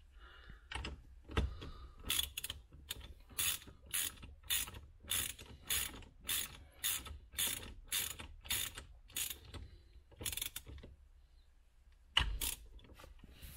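Ratchet wrench tightening the steering wheel bolt on a Range Rover Sport, giving a steady run of sharp, close clicks in quick regular strokes, a short pause, then a few final clicks, with no talking.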